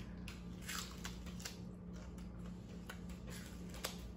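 Raw green onion gets bitten and chewed up close, giving a few crisp crunches and moist snaps over a faint steady hum.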